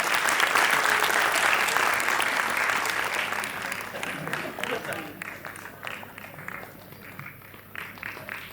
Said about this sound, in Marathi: टाळ्या होऊन जाते सरांसाठी.